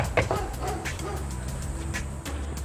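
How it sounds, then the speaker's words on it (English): Dog barking from inside a house, a few short muffled barks and yips heard from outside, moderately loud over faint background noise. "surprised to hear barking from inside the house"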